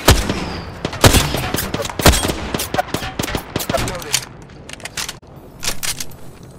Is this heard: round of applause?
no